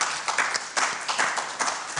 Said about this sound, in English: a more hearty round of applause